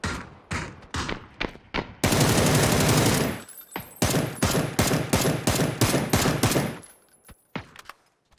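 Gunfire in the PUBG video game: loud, close shots in quick bursts, including a sustained rapid automatic stretch, with brief gaps between volleys and a few distant pops toward the end.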